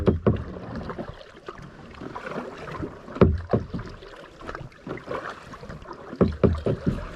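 A canoe paddled on the Wieprz river gives irregular splashes and knocks of paddles in water, close and fairly loud, recurring every second or so over wind rumble on the microphone.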